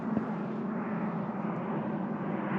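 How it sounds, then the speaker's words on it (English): An airplane passes close overhead during a cold-weather ride on a Honda XR650L motorcycle, its steady broadband engine roar sustained and fairly loud across the whole moment, mixed with wind and riding noise, with no talk. "Watch this plane,"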